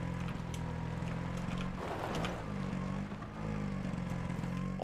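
A tuk-tuk engine drones steadily in PUBG, a loud, continuous motor hum with a brief dip and swell partway through, with no talking.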